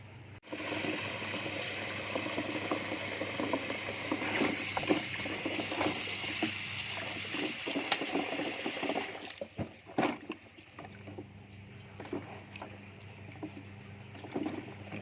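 Puffball mushrooms (het phoe) being washed by hand in water, a steady sloshing and splashing that runs loud and continuous for about nine seconds, then drops to quieter, scattered drips and light swishes.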